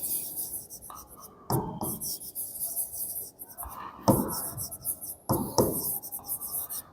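Marker strokes writing a math formula on a board, a series of short squeaky scratches with brief pauses between strokes, close and clear without speech.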